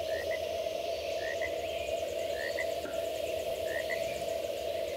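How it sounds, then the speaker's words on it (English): Steady outdoor nighttime ambience in a Unity game audio mix, with a constant droning hum and repeated frog croaks every second or so, faint and evenly spaced over the background. "I want to introduce some frogs into the mix."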